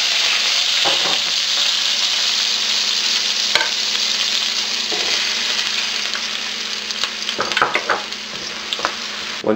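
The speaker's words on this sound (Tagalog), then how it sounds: "Once mainit na yung cooking oil, isosauté na natin yung garlic at yung onions." Garlic and onions sautéing in hot cooking oil for pork guisantes, a steady loud sizzle throughout with occasional sharper crackles and spatters.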